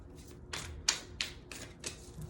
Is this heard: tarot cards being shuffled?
yes